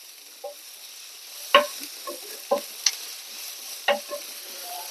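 Sliced onion hitting hot oil already crackling with mustard seeds and chili for a breadfruit and egg thoran, with intermittent sharp clinks of a spoon stirring the pan over a soft, low sizzle.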